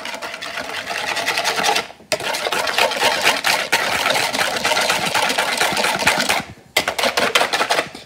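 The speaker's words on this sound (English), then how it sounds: "Now we just have to whisk this." A mixture is whisked very fast in a bowl, making a rapid, even clatter of strokes that runs on with two brief pauses.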